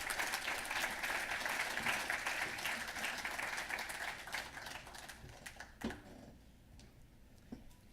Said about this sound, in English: a huge, big round of applause for Dr.